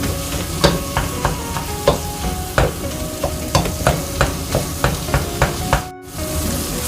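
Ground pork stir-fried in a pan for a Thai dish with banana peppers, squid tentacles and fish balls: steady loud sizzle with rhythmic scraping knocks of a spatula breaking up the meat, a brief pause near the end.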